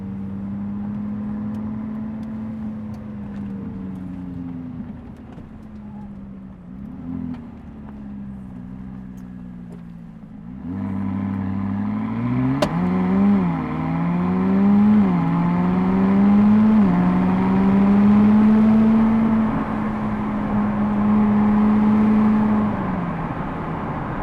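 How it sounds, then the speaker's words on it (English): Interior ventilation fans of a 2016 McLaren 570S come on, a broad airy whoosh that rises and holds from mid-clip over the car's steady idling engine hum. "Let's get the interior ventilation, the fans going"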